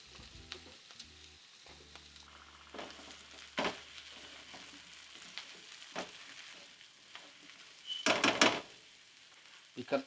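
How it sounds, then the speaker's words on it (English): Cremini mushrooms quartered and added to caramelizing onions cook in a pan with a low, steady sizzle, broken by a few scraping stirs and one louder clatter near the end; no one speaks. "Continue to cook these mushrooms until they start to soften just so slightly."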